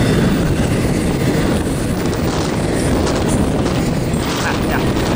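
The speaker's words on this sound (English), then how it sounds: "What a big freight." A big freight train rumbles past up close, loud and steady for the whole stretch, with continuous clattering wheels and wind buffeting the microphone.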